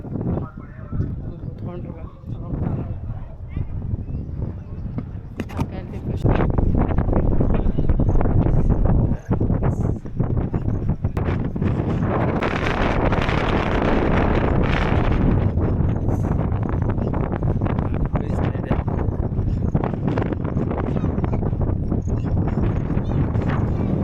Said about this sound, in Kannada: ಗಾಳಿ ಅಂದರೆ ಗಾಳಿ.